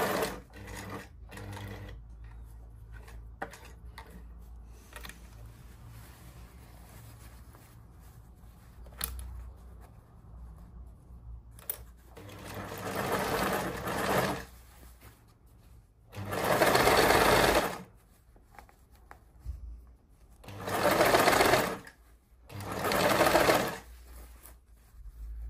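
A sewing machine stitches the lining of a crocheted hexagon-motif bag, first with light handling and short runs, then in several loud, sustained bursts of rapid whirring separated by pauses.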